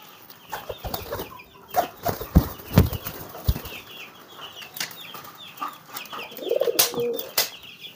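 A male pigeon coos in low, repeated throaty phrases while driving a hen, with wing flaps and scuffling thumps mixed in, close by and fairly loud against a quiet background.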